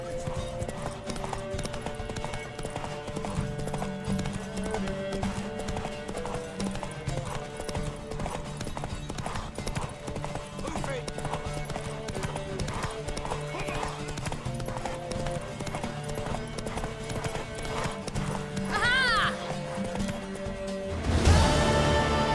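Hooves of a horse clip-clop rapidly in a steady gallop rhythm in The Witcher 3: Wild Hunt, loud and continuous under music and talking, ending in a sharp crash.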